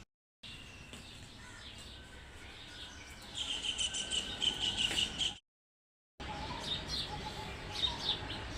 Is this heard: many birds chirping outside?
yes